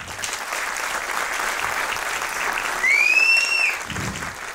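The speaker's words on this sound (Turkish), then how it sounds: "Şimdi daha da büyük bir alkış." An awards ceremony crowd applauding steadily, a dense wash of clapping throughout, briefly swelling as a sharp whistle rises over it near the end.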